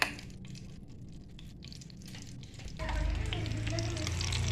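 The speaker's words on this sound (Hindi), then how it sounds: "ये मैंने घी रखा है गर्म, और इसमें ना मैं 1 चम्मच लहसुन डाल रही हूँ।" Garlic fries in hot ghee for a traditional village saag, starting as a quieter crackle with light utensil clinks and swelling into a louder, fuller sizzle partway through, with no talking.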